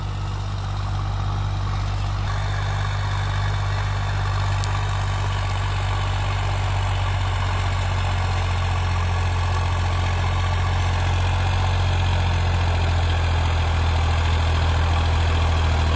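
A heavy diesel engine of a 2024 Sonalika DI 745 tractor runs steadily at a constant low rumble, close and loud, with no change in pace throughout.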